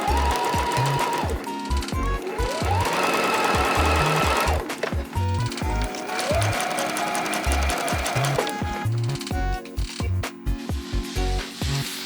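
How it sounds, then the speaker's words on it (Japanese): A sewing machine runs fast and loud, stitching the lining and outer fabric side seams of a dress. It whirs in long continuous bursts with brief pauses and speed changes between runs. "裏地と表地そのまんまダダーッと縫っていきます"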